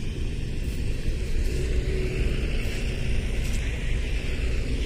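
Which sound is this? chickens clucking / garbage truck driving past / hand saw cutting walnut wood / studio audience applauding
garbage truck driving past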